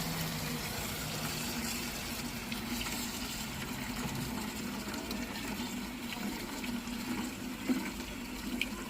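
Water from a hose runs steadily into a snail and fish tank, a continuous even rush that carries on unbroken throughout with no talking.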